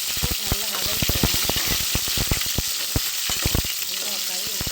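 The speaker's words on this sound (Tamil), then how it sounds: "பட்டை மிளகாய் நல்லா வதக்கிடுங்க." Cinnamon and chillies fry in hot oil, sizzling steadily with rapid crackles and pops as they are stirred, heard up close.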